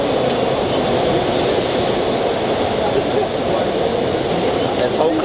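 Induction heater heating a metal billet at an industrial machinery trade fair, a steady loud electrical hum and hiss with constant background noise and voices under it.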